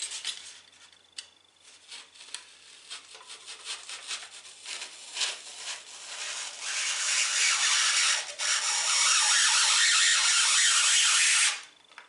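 A blade saws and rubs through a stiff insulation board, starting with scattered scratches and building into a loud, continuous grinding rasp that stops abruptly.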